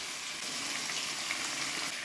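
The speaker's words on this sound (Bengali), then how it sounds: "এবার এটাকে ভেজে নেব। এই আলু আর কুমড়োটা ভাজা হয়ে গেলে তারপরে বেগুনটা ভাজবো।" Potatoes and pumpkin with turmeric and salt frying in a pan give a steady, close sizzle that holds at an even level throughout, with no voices.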